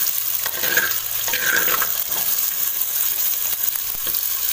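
Onions frying in coconut oil for a South Indian mackerel fish curry, a steady, close sizzle with occasional stirring scrapes and no voices.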